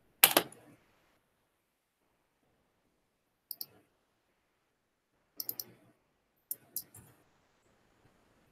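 Short bursts of clicking keystrokes come in separate clusters, a typist entering text on a computer keyboard with silent pauses between groups, close and fairly quiet.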